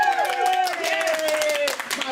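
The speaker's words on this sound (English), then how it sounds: "Let's give her a round of applause here." Applause from a studio audience on a talk show, a dense wash of claps that runs steadily under a voice or tonal sound for about two seconds.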